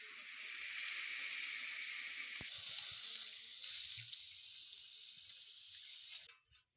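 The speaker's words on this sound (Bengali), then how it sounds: "মশলা কষা হয়ে গেছে, এবার জল দিয়ে দেবো।" Water poured into a pan of cooked-down spices for a Mrigel fish mustard curry, with a steady rushing hiss close by that fades out near the end.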